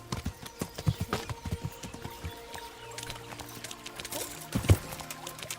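Horse hooves clip-clop on the ground in the medieval video game Kingdom Come: Deliverance, an uneven run of soft thuds under faint ambient sound.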